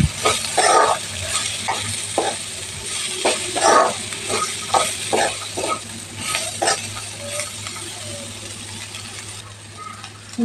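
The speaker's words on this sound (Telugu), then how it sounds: "ఇవన్నీ ఒకసారి కలిపేసుకొని" A spatula scrapes and stirs bitter gourd fry in a pan after turmeric and coriander-cumin powder go in, with quick irregular clinks and scrapes over a low sizzle, close and fairly loud.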